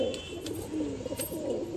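Female Tukai pigeons in a loft give low, soft repeated coos, fairly faint, with a few light chirps or rustles above, no speech.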